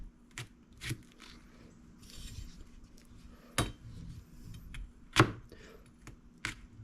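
Sharp knife chopping through tough okra on a cutting board, several separate crisp chops spaced irregularly, close and clear with quiet pauses between.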